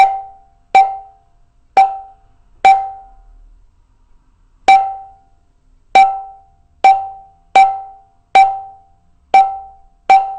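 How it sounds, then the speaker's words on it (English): Ta strokes struck on the center of the siyahi of a mridanga drum, eleven sharp ringing hits with a clear pitched tone, evenly spaced apart from a pause in the middle, each decaying quickly, alone with no talk. "you hit the center of the siyahi. So that sound is called ta, and you strike it."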